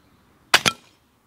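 An FX airgun fires a pellet into bulletproof glass: two sharp, loud cracks in quick succession with a brief ringing tail, then quiet.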